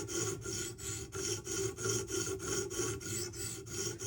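Rhythmic rasping strokes of a Spyderco Para 3 knife heel drawn across a square-edged sharpening stone, about ten even back-and-forth passes, close and steady with no talk.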